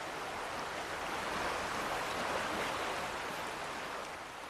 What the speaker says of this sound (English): Floating down the river, so you probably hear the rapids in the background